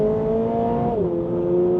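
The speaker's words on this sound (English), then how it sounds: "I love that exhaust note." Turbocharged Toyota GR86/Subaru BRZ engine with a steady droning exhaust note under load, its pitch dropping partway through as the car shifts, heard close and loud with no talk.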